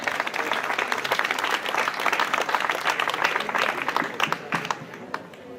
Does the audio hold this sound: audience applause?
yes